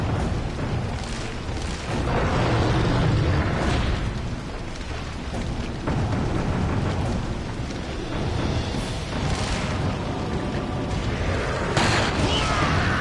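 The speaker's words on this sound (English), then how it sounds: "Another grenade around here." Grenade explosions in Resident Evil 4, several heavy booming blasts in a dense, loud barrage of game noise with no clear pauses between them.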